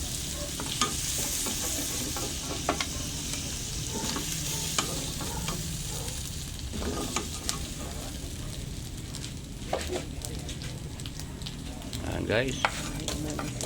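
Onion and garlic sizzle and get stirred in a pan of rendered pork drippings, a steady frying hiss with scraping stir strokes throughout, while a person talks occasionally over the cooking.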